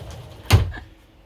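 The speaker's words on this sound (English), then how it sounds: "sliding door, locking door" Sliding door aboard a sailing boat pulled shut and latched, a single solid thud with a brief rattle, close and fairly loud in a quiet cabin.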